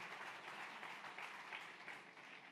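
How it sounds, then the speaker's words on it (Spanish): Steady applause from a congregation during a church service, a faint, even wash of many hands clapping with no pauses. "Le da el aplauso."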